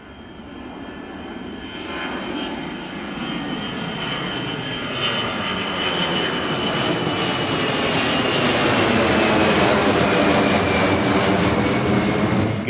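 An Ilyushin IL-76 jet aircraft taking off, its engine roar building from a whine to a loud sustained rumble with tonal turbine whistles, alone and growing steadily nearer.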